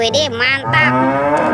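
A toy cow lets out a bright, electronic-sounding moo that runs through the whole short stretch, loud and close, with a brief excited exclamation from a person near the start.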